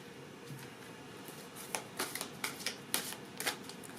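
A deck of tarot cards is shuffled by hand, giving a quiet run of soft riffling flutters and brisk slaps in quick, uneven bursts, close to the listener with no talking.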